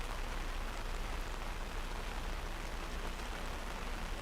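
Steady heavy rain falls at Dublin Airport on a murky day, a dense, even hiss that continues unbroken throughout with no voices or distinct events.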